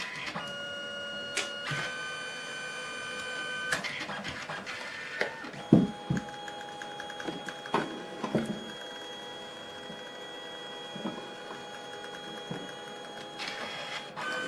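A Canon Selphy CP1300 photo printer working through a color print, with quiet mechanical whirring, ratcheting and clicking motor steps and a few sharper clunks, close and fairly faint.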